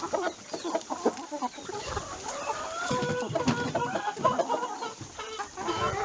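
A flock of geese chatters and honks nearby, with overlapping calls continuing throughout at a steady, moderate level.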